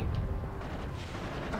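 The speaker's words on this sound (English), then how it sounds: "Who else is shooting me?" Gunfire hitting the player in a video game: a dense, continuous rumble of rapid shots and impacts, loud and steady throughout the short burst.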